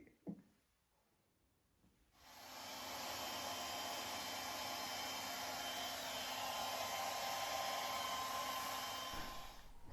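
A hair dryer blows steadily on wet hair styled with mousse, switching on after about two seconds of near quiet and then running loud and continuous to the end, with no talking.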